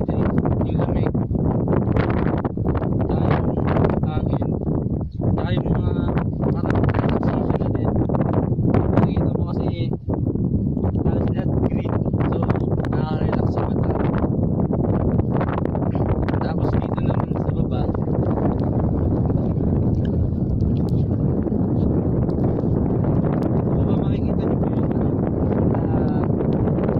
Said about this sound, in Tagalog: Nakapansin nyo ngayon sobrang malakas yung hangin tapos umuulan pa.